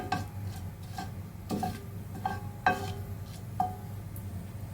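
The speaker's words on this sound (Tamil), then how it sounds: "லேசாக பொரிய ஆரம்பிச்சிருச்சு" Cloves and other ingredients lightly frying in oil for chana masala, a soft low sizzle punctuated by several sharp metallic spoon taps against the pan at irregular intervals.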